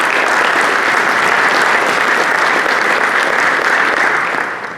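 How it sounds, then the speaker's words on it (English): Loud, sustained audience applause at a Caribbean tourism presentation, dense clapping filling the room for several seconds before starting to fade at the end. "this is something we need to take an applause for"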